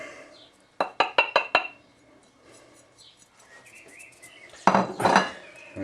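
A spoon clinks against a pot while stirring chili powder and turmeric into a curry sauce with coconut blocks, giving a quick run of four or five metallic taps, a pause, then another burst of scraping clatter.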